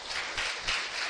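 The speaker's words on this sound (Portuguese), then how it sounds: "Vamos aplaudir o Senhor Jesus" A church congregation applauding, a brief wash of many hands clapping together in a steady dense patter, fairly loud and close with no break.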